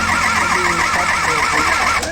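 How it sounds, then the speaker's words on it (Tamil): Lorry engine with a discharged battery cranking steadily on its starter motor and failing to start, a loud continuous rhythmic whirring churn that runs unbroken close by, with no people talking. "ஆனால் செல்ஃப் எடுக்க மாட்டேங்குது, இன்ஜின் ஸ்டார்ட் ஆக மாட்டேங்குது."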